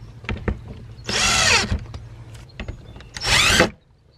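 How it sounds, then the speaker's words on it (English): A power drill drives screws into plastic on a wire hanging container, two loud whirring bursts separated by clicks and handling knocks, close up. "I'm going to drill the screws right into the plastic"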